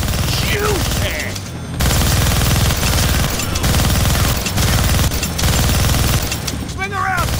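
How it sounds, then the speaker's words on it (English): A minigun fires in the Deadpool video game: a loud, dense, sustained burst of rapid gunfire that dips briefly, then roars on steadily, with game sounds layered over it. "Gonna need both hands to shoot that minigun."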